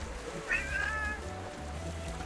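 A single cat meows in the video game Tales of Monkey Island, one short rising-and-falling call over a quiet low background hum.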